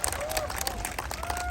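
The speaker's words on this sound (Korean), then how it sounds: "여러분들께서 다시 한번 큰 박수 부탁드리겠습니다" Audience applause and cheering at an outdoor youth trot song festival concert in Jeju, a broad steady crowd clapping sustained throughout, with some background crowd noise.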